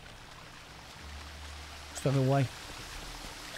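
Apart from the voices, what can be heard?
waterfall in The Witcher 2 video game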